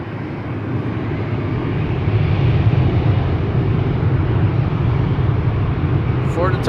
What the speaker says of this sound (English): We have an Embraer 175 to Turin now taking off